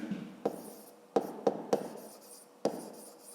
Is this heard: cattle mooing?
no